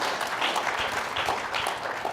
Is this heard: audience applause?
yes